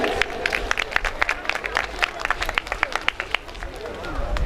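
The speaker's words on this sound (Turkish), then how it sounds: "Evet bir alkışlayalım önce." An audience breaks into applause, a steady run of many close, sharp claps lasting several seconds, with some voices mixed in.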